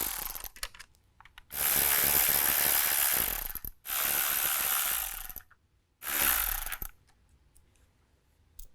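A ratchet removes 10mm grille bolts on a 2021-or-later Ford Bronco, three sustained, close buzzing runs of a few seconds each, separated by short quiet gaps.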